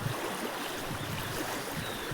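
Rainwater after a heavy downpour in Borgaon rushes along a farm road by a cattle shed, making a faint, continuous wash of flowing water with no voices.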